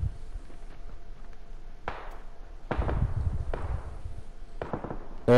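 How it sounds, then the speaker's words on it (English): Several sharp gunshots in the game PUBG crack out at a distance among hills, with echoing tails, spaced irregularly over a low background rumble. "Oh, I hear gunshots. Someone's shooting at me."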